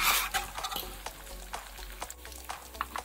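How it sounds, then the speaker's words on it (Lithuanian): Potatoes deep-frying in hot oil in a fryer, cooked in batches for maqluba, give off a faint, steady crackling sizzle with scattered sharper pops throughout. "Bulves kepam per kelis kartus, visas turim apkepinti fritiūrę, kad jos o taip gražiai apkeptų."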